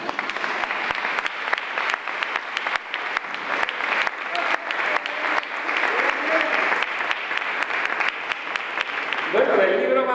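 An audience at a book presentation applauds with dense, sustained clapping close by, and a voice begins speaking as the clapping fades at the end.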